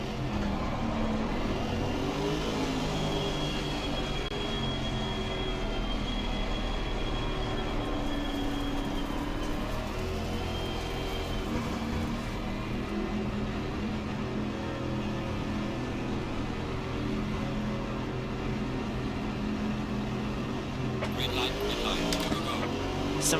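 GT4 and GT3 racing cars on the Barcelona circuit in a racing video game, engines droning continuously and close with shifting revs, a voice talking over the steady roar.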